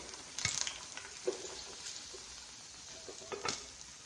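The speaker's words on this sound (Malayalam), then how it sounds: "അപ്പോൾ ഇതേപോലെ തന്നെ എല്ലാ പഴങ്ങളും നമുക്ക് വറുത്തെടുക്കാം." Banana fritters, Kerala-style pazham pori, deep-frying in oil, giving a steady close crackling sizzle with a few brief louder spits and pops, no voices.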